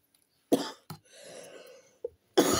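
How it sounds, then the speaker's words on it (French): A person coughs sharply several times, with a rough, breathy rasp between the coughs and a final hard cough at the end. "qu'est-ce que je serais contente quand je pourrais arrêter de tousser comme ça"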